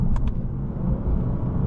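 A 2022 Lexus RC 350 drives along with a steady low engine rumble and road noise from inside the car, with a couple of faint clicks at the start.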